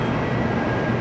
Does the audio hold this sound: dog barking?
no